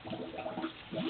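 Water rushing steadily into a household supply, a continuous close broadband gush with no voices.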